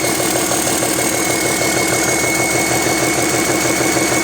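Cummins 6CTA diesel engine idling, a loud, steady rhythmic chugging with a constant mechanical hum and no speech.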